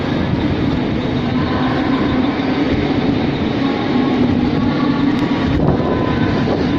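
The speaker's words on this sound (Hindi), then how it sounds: "तो ये है वो सीवुड का स्टेशन जहाँ से" A train at Seawoods Dharave station in Navi Mumbai gives a steady, loud, continuous rumble that fills the whole stretch with unbroken low roar and no voices.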